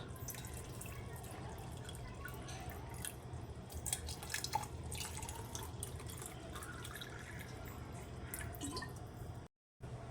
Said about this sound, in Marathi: त्याच्यामध्ये थंड पाणी घालायचं आहे गार